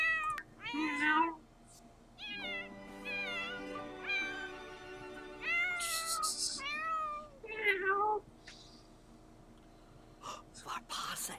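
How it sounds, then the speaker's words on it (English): Several cat meows from The Sims 4 video game, chirpy and varied in pitch, coming in separate bursts over a low hum, with whispery vocal sounds mixed in. "Meow."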